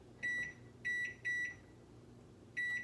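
A kitchen timer gives four short electronic beeps, three in quick succession and one after a pause, clear and close in a quiet room.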